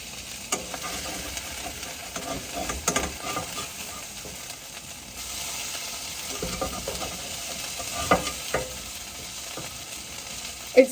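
Shredded hash browns fry and sizzle in a pan, a steady crackling hiss broken by occasional scraping stirs and clinks, heard alone with no voices.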